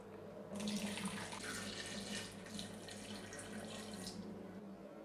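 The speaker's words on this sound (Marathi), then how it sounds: "चला आता यामध्ये आपण पाणी घालूया" Cold water pours into a mixer grinder jar in a continuous gentle splashing stream, faint and close, without any talk.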